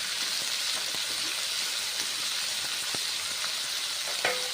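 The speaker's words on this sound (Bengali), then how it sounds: "উচ্ছেগুলো এখন ভেজে দিচ্ছি নেড়ে চেড়ে" Bitter gourd slices fry in oil with a constant hissing sizzle, broken by occasional sharp clicks from stirring, all at a moderate, even level.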